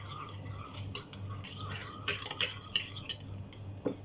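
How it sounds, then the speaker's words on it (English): Curd being stirred in a bowl with a spoon, giving soft scraping and occasional light clinks of utensil against the dish, near and fairly quiet over a low steady hum, with no talking. "Stir the curd."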